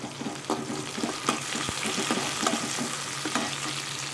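Green chillies and curry leaves frying in a pan with sautéed onions for a hotel-style vegetarian curry, a soft continuous sizzle with spatula taps and stirring scrapes, no voices.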